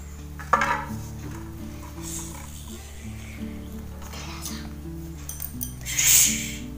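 Biryani mixed by hand on a metal plate, with soft stirring and occasional light clinks of the plate against a steady background hum and faint chatter.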